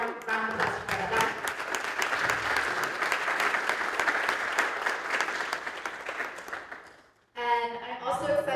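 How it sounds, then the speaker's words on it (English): Warm applause from an audience at a college Gaza solidarity teach-in welcomes a speaker, steady dense clapping for about seven seconds before it cuts off and talk resumes. "So let's give a warm round of applause for Adan."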